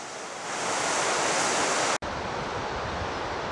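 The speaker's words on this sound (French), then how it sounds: "On est toujours accompagné par le grondement du ruisseau" A mountain stream roars close by on a hiking trail in the Haute-Savoie valley near Sixt, a steady broadband rush of water with no voices and a brief cut partway through.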